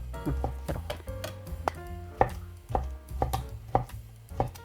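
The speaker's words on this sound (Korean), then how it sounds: "어묵을 썰어 보겠습니다." A knife slices fish cake repeatedly on a cutting board, sharp irregular thuds close up, with faint background sounds and no talking.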